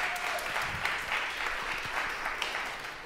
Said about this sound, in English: Let's applaud for that.